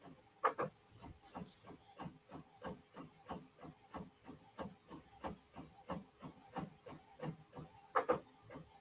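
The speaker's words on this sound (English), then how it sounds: "I had on high speed printing and it's still printing slow" A slow printer feeds and prints in a steady, regular rhythm of soft mechanical ticks and rubs, faint and close, with a couple of louder clunks and no voices.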